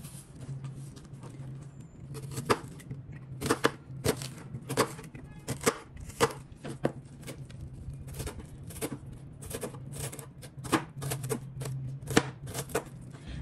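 A knife chopping an onion on a cutting board for pineapple chimichurri, a long run of crisp, close taps in uneven bursts, some quick and clustered, others spaced apart, over a faint steady hum.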